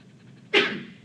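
A single short sneeze bursts out midway through otherwise quiet background, fairly close and brief.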